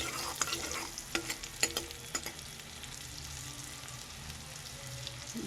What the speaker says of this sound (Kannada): ಎಷ್ಟು ಚೆನ್ನಾಗಿ ಬೆಳ್ಳುಳ್ಳಿ ಬೇಯುತ್ತಿದೆ